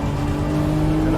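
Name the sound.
Lamborghini Revuelto V12 accelerating out of a slide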